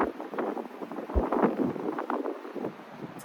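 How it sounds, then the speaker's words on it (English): Wind buffets a microphone outdoors beside a beehive, producing steady low rumbling gusts and rough blustery noise throughout a few seconds. "It's a little windy out here."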